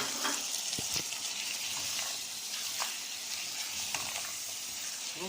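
Peas and liver sizzling and frying in a pan while being stirred, a steady close hiss with occasional soft scrapes and clicks.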